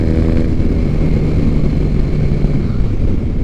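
A 2006 Triumph Bonneville cafe racer motorcycle cruises along the road, its engine a steady, loud, close rumble with a continuous low drone and no speech.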